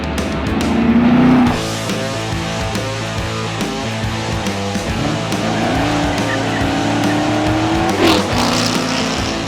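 Chevrolet Camaro on a track fitted with KW coilovers, its engine revving loudly with rising and falling pitch as the tires squeal in drawn-out bursts, close and continuous for about ten seconds.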